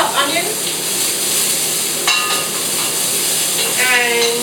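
Chopped onions frying for chi qua soup, a steady sizzle and hiss in the pan with occasional stirring scrapes, close and fairly loud with no talk.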